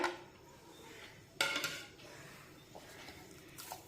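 Lid lifted off a bowl of resting wheat dough in a quiet kitchen, a soft clatter of metal or ceramic followed by a brief scrape and light handling knocks.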